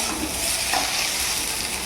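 A steady, close sizzle of potatoes frying in a pan, continuous and even throughout with no voices.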